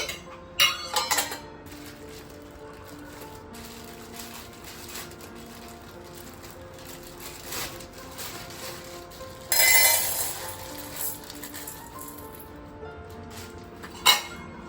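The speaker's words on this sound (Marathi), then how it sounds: "तिचा सुद्धा एक आम्ही छोटा डब्बा केलेला आहे, त्याच्यात मी ती भरून ठेवते" Chana dal poured and packed into a small storage container at home, with quiet clinks and rattles of the container and a short, louder burst of grains spilling in partway through. Faint background noise fills the gaps.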